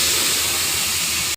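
Spice paste of cumin, coriander, dried chilli and turmeric mixed with water hits hot oil in a pan, giving a loud, steady, broad hiss that holds for about a second before cutting off abruptly.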